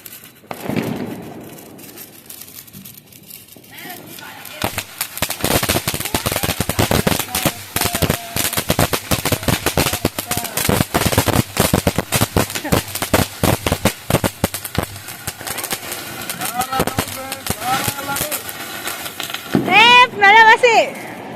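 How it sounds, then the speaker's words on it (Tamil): A 'guitar' firecracker set off for Diwali gives a long run of rapid, loud crackling bursts, and voices are heard talking around it. "இந்த வருஷம் புது வரவு கிட்டார் ஸோ இங்கே நம்ம ஃபயர் பண்ண போகிறோம்"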